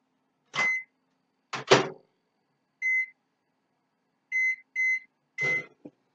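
A kitchen oven heating food gives several short electronic beeps, single and paired, spaced apart among a few clunks and handling knocks, close and clear with no talking.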